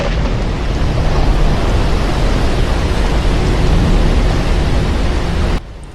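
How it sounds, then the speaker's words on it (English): Steady rain and wind roaring as one dense wash of noise, with no distinct thunder claps, filling the clip loudly and then cutting off sharply near the end. "a sudden storm took them all by surprise"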